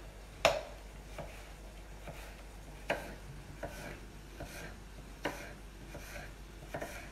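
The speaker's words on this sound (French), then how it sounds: "On va pouvoir tailler nos pommes pour faire des pommes à cru." A knife cuts apples into sticks or thin slices on a cutting board for a family apple pancake, with quiet, spaced, sharp chopping taps, one louder strike near the start and several softer ones after it, and no talk.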